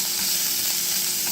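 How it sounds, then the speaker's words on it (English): Ham and onion fry in hot oil for fried rice, a dense, steady sizzle close up with no pauses or talk. "It goes pretty quick because things are frying as you're cooking."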